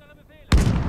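A single loud gunshot in the World War II game Gates of Hell breaks abruptly out of near-silence with a sharp, close crack followed by a rolling echo and rumble.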